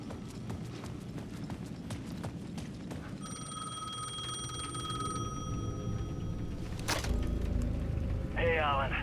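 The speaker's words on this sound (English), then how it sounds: "The payphone at the edge of the plaza was ringing again." A payphone at the edge of a plaza rings in the video game Alan Wake 2, repeated electronic trills standing over a clip-clopping, ticking background, with someone narrating.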